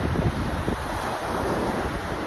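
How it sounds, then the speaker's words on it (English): Strong wind buffets the microphone with a steady low roar on the Miami seashore, with surf rushing underneath throughout. "I hope you can hear it because it's pretty windy"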